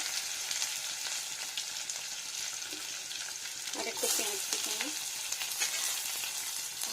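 Chopped ginger and onion fry steadily in hot oil, a continuous bright sizzle with occasional stirring scrapes, while a voice speaks briefly midway.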